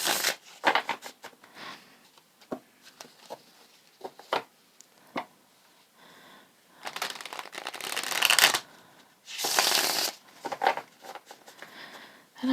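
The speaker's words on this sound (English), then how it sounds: "And I just usually shuffle until it feels good to me." Tarot cards being shuffled vigorously by hand, close up: bursts of crisp riffling and flapping card sounds, some short and some long sustained runs, separated by brief quiet pauses.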